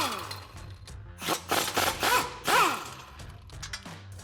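Socket and wrench loosening the front strut nuts on a 1994-2004 Ford Mustang, heard as a few quick metallic ratcheting and clicking bursts, close and fairly quiet, with no talk.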